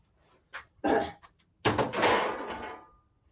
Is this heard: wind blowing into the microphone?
no